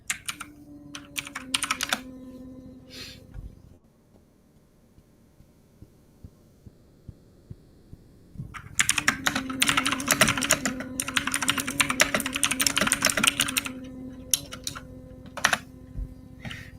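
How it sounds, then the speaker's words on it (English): Rapid clattering keystrokes on a typewriter-style computer keyboard come in bursts over a low hum, with a quiet pause of several seconds before a longer, denser stretch of typing. "Like my typewriter keyboard."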